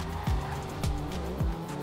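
A BMW in the GTA video game pulls away with a run of three sharp engine surges and tire chirps, each rising quickly and fading, close and fairly loud over a steady motor hum.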